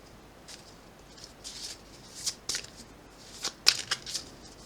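Tarot cards are shuffled by hand in soft, uneven bursts of papery riffling and slapping, close and quiet, getting busier toward the end.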